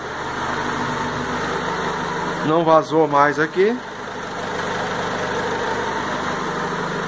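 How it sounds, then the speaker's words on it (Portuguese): A 2000 Honda Civic with about 110,000 km idles smoothly after a post-purchase service, a steady even hum close by that continues under someone speaking briefly. "Mas o motor, ó. Tá redondinho, hein?"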